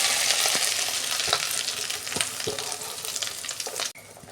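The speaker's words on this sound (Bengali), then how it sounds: "তেল গরম হয়ে গেছে, এই ডিমটা দিয়ে দিচ্ছি।" Fish roe, mixed with gram flour, sizzles loudly in hot oil in a home kitchen. A steady broadband crackle carries scattered spatula scrapes and pops, then cuts off abruptly near the end. No one talks.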